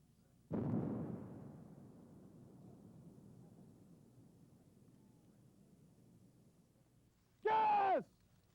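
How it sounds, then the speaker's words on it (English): A mine-clearing line charge detonates over a desert minefield: one sharp, heavy blast followed by a long rumbling decay that fades over several seconds, then a brief shouted voice at the end. "The rocket drags the line charge over the minefield and it is detonated once it strikes the ground."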